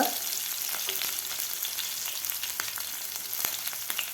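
Asafoetida and onion frying in a pan while making sweet corn poha, a steady close hiss of sizzling oil with scattered crackles and pops and no talking.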